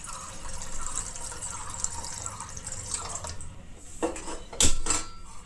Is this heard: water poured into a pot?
yes